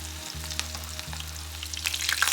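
Kebabs frying in a pan make a steady close sizzle with crackling spits and bursts that grow busier toward the end, over a low constant hum.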